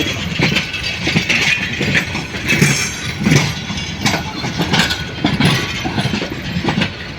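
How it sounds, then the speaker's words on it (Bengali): Heavy rumbling of a diesel locomotive moving to couple with carriages at Kamalapur railway station, Dhaka, with rhythmic clanking and metallic rattles, steady and fairly loud throughout, no voices. "ইঞ্জিন গিয়ে এখন বগির সাথে লাগবে"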